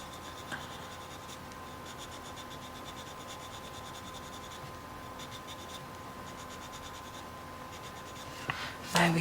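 Coloured pencil shading on paper, a soft continuous scratching with rhythmic strokes close up, pausing briefly between passes, ending with a louder rustle.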